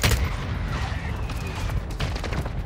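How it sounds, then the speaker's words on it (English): A mortar strike in Warzone 2, a burst of blasts and scattered gunfire, loud at first and then settling into a rumbling, crackling mix. "Mortar support incoming!"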